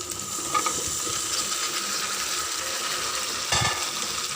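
Washed dried plums added to spices frying in oil for a Bangladeshi plum pickle: a continuous close sizzle with a couple of louder splashy bursts as pieces drop into the hot oil.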